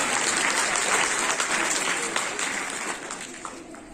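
An audience at a school painting competition prize-giving for World Water Day applauds steadily, dense clapping filling the room and slowly thinning toward the end, with a voice speaking over it.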